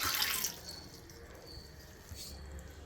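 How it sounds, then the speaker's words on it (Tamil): A tumbler of water splashes briefly into a pot on the stove, followed by a few soft drips and quiet kitchen background. "நீங்கள் ஒரு டம்ளர் தண்ணியை ஊற்றிக்கோங்க"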